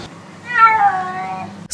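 A single drawn-out meow from a sick cat diagnosed with rabies, close and clear, lasting about a second, with no talk.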